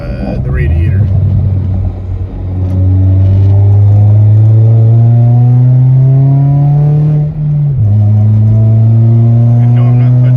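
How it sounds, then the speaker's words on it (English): Saturn Ion engine revving at half throttle, a loud close rising roar that climbs in pitch, dips briefly, then holds high, with a voice speaking over the start. "I'm only doing half throttles."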